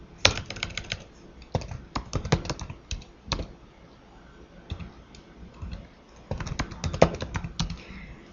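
A computer keyboard is typed on in bursts of rapid clicking keystrokes while a password is entered, close and crisp, with short pauses between flurries.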